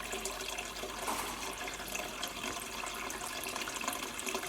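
Homemade dry beer pours and trickles steadily through a filter cloth, a continuous close, soft watery rush with no breaks.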